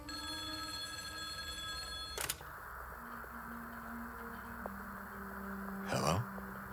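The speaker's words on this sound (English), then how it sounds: "we finally reach the place marked on our map, only to hear a loud ringing phone" A loud telephone ringing in the Silent Hill 2 Remake video game, a bright multi-tone ring that stops abruptly after about two seconds, followed by quiet low ambience with a couple of sharp clicks and thuds.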